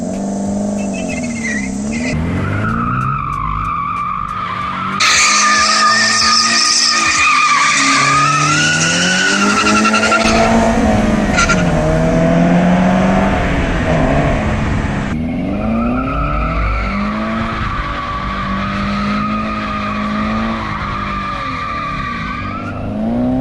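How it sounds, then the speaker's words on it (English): A Subaru BRZ drifts with its tires squealing and skidding continuously, the engine revving and wavering in pitch as it slides through corners, loud and close throughout with no talking. "You can go around a corner and drift it if you want to."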